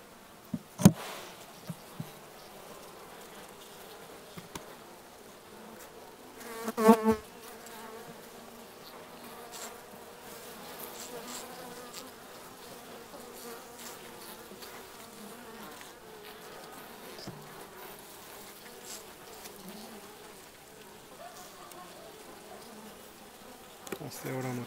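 Honeybees buzz at an opened hive in a steady, low hum close by, with a few scattered knocks and bumps of hive frames breaking through now and then.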